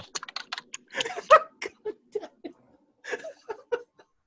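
Someone types on a computer keyboard, with irregular bursts of separate clicking keystrokes and short pauses between runs, close and fairly distinct against a quiet room.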